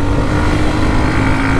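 A Hero Xtreme 125R motorcycle's engine runs in a steady, loud, continuous roar with a constant low drone and no clear revving rise, heard close and alone without talk.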